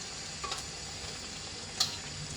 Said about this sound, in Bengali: আমি এই যে বেগুনি দিছি কড়াই,